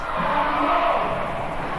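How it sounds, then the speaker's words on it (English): A basketball crowd cheers and roars in the final quarter of a close game, a dense, sustained wall of voices that holds steady throughout. "And the crowd's really got into this game in the last quarter."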